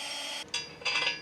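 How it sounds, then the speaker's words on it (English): A power drill bores holes for truck camper anchor bolts: a steady high whine that breaks off briefly and then starts again, loud and close, with no voices. "Now that both holes are drilled"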